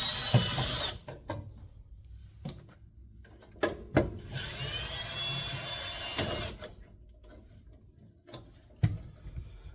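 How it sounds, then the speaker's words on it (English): A 5/16 nut driver takes two screws out of a gas furnace during an orifice service, giving close ratcheting clicks and light metallic scraping with a few sharp taps, steady and quiet, with no talk. "We're going to get in and take two screws out."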